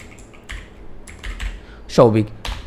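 Name being typed on a computer keyboard: scattered soft key taps, mostly quiet and irregular, with a voice cutting in briefly near the end.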